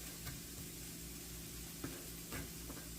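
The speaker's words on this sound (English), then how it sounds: "Our oil is nice and hot. We're going to go ahead and put these onions in and get them cooking pretty well" Onions frying in hot oil in a pan for a stir-fry: a faint, steady sizzle with a few small clicks and stirring taps, and no voices.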